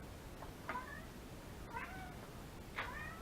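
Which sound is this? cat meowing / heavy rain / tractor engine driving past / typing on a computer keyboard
cat meowing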